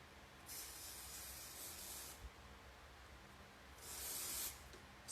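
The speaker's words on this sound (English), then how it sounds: "Just gonna spray paint a little bit." Spray mount adhesive hissing from an aerosol can onto paper for a cardboard prototype, two steady bursts of about one and a half seconds each, close and fairly quiet with no talk.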